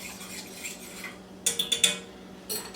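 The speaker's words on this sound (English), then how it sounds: "Give it a little stir" A utensil stirs chicken scampi in a metal pan, with a soft scraping undertone and then a quick cluster of sharp metallic clinks, followed by another tap, heard close and alone.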